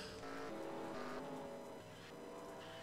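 Race cars in a racing video game pile into a wreck, with engines roaring and tires squealing loudly and continuously before the din eases slightly.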